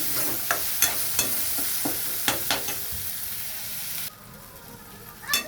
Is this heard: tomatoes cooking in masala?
yes